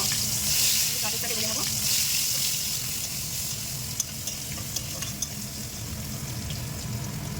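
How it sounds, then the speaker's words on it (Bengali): Carrot frying in a pan, a steady hiss and sizzle with occasional stirring clinks, heard close and fairly loud throughout. "আমি গাজরটাকে ভেজে নেব।"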